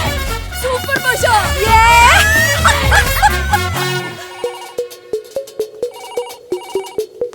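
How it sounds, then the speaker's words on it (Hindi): A telephone rings with a repeating electronic ringtone in steady regular bursts, loud and close, following a stretch of busy music and voices. "कब से बज रहा है फोन, उठाने को नहीं होता?"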